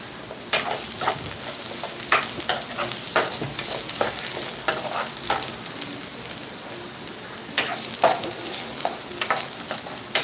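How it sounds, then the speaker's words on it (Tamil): Onions sautéing in a pan for mushroom gravy, a continuous close sizzle broken by frequent sharp spatula scrapes and stirring clatters in irregular bursts, with no talk. "வெங்காயம் வந்து நல்லா வதங்குது."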